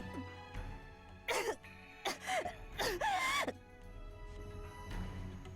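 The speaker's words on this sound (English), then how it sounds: "as she gets up and gasps for breath" A hurt female character in the video game Seinarukana struggles to her feet, letting out three sharp, strained gasps for breath in quick succession against a low ambient hum.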